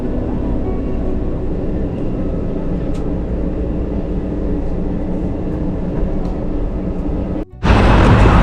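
Inside a train heading toward Guadalupe station, a constant loud rolling rumble of the carriage fills the ride. Near the end there is a sudden brief drop, then a harsher, louder burst of noise.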